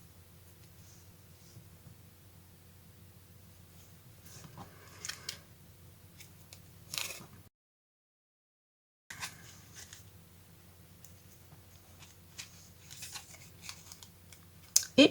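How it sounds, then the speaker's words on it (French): Hole punch pliers bite through paper during a craft project, giving a few sharp isolated clicks and light paper rustles spread across a quiet, close-up recording, with a brief silent gap midway. "Ma perforatrice, ma pince du moins."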